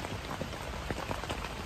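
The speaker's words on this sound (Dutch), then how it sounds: "Maar het is flink regen." Heavy rain falls steadily outdoors, a dense constant patter of drops striking surfaces at close range with no voices.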